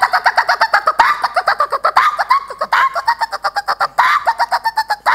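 A man imitates a cuckoo's call with his voice in a comedy sketch, repeating rapid, rhythmic whistled notes in steady bursts that fill the clip, loud and close.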